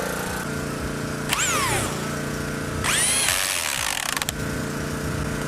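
A power drill labours through a large-diameter bore, its motor droning steadily with two rising, whining surges as the bit bogs and picks up, plus a few sharp clicks near the end.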